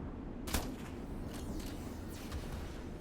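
Gunshots ring out in the video game Metal Garden, a sharp close shot followed by a few fainter cracks over a steady rumbling background, moderately quiet overall.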